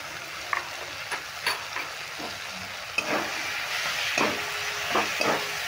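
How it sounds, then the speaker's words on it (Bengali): Spices, including Kashmiri chilli powder with a little sugar, stirred and fried in a pan, giving a steady close sizzle broken by scraping stirs of the spatula at irregular intervals. "নেড়ে নিয়ে ভেজে বসিয়ে নিতে হবে"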